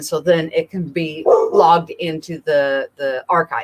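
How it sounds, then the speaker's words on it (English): Dogs bark and yip at home behind a person who talks continuously, the barking partly masked by the voice. "Sorry about the dogs"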